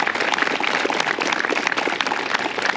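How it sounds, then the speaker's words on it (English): Audience at a Vernon High School class of 2022 graduation ceremony applauding, a steady wash of many hands clapping, dense and even throughout with no pauses. "I need you to give them a deserving round of applause"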